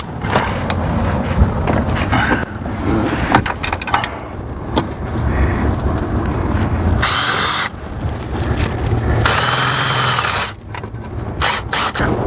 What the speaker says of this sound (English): I'm going to drill the hole a little bit larger than the 4-gauge wire